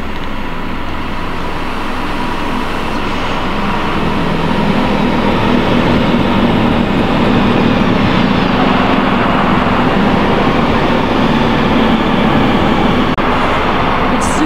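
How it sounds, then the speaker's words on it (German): An ICE T high-speed train rolls steadily into Leipzig Hauptbahnhof with a sustained low rumble and rising hum, heard from nearby over faint background noise. "hinter mir fährt jetzt noch ein ICET ein, sowie eine Erfurter Bahn"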